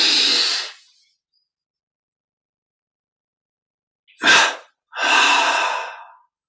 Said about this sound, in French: Double expire par la bouche, détente totale.